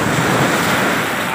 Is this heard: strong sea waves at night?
yes